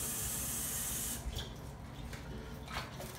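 Tap water pours steadily into a pot for cooking noodles, a loud continuous rush for the first second before it cuts off and gives way to quieter clinks and faint handling sounds.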